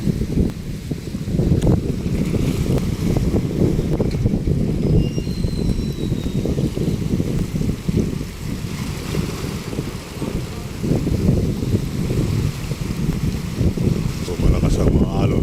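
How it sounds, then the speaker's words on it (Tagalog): Strong wind and rough waves on Manila Bay with navy warships anchored nearby: constant low rumbling wind buffeting and surging water wash fill the scene loudly without pause, while someone talks over it. "So malakas ang mga alon ngayon."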